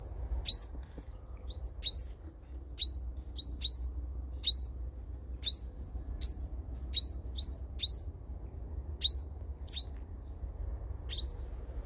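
A caged sunbird calls repeatedly in short, sharp, rising chirps, evenly spaced about once a second, close and clear over a low steady rumble of background noise.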